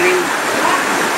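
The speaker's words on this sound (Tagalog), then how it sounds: "Sa tindi ng pagragasa ng tubig, nagmistulang ilog ang bahagi ng kalsadang ito ng Noveleta." Floodwater rushes across a road in Noveleta, Cavite, turning the street into a river, with a loud, steady roar of flowing water filling the short stretch.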